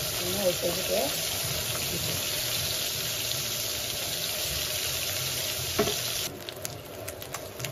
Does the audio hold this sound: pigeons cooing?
no